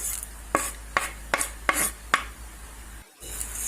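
Spoon stirring a spicy snack mixture frying in a pan on low heat, a series of five sharp scraping strokes at an even pace over a faint sizzle, with a short pause near the end.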